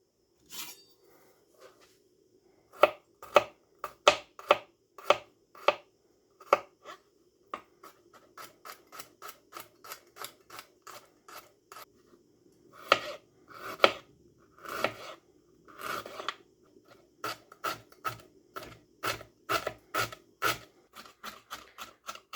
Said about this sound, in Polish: Posiekamy teraz bardzo drobno imbir i czosnek.